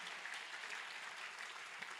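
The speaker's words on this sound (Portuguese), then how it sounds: "Os que acreditam, dê um aplauso ao Senhor mais uma vez." A church congregation applauds, a dense, even wash of clapping that runs steadily through the short stretch at a faint, distant level.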